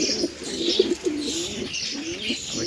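Pigeons coo in a breeding loft, several soft, rolling calls up close, repeating in an uneven rhythm over a faint hiss.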